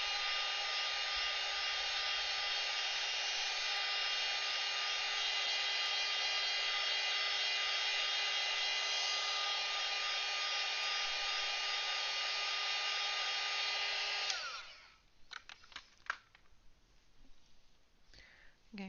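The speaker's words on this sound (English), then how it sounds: "now we're going to take the blow dryer and we're going to give it a dry" A blow dryer blows steadily over a painting, a loud continuous whirring hum for about fourteen seconds before it cuts off, leaving faint handling noises.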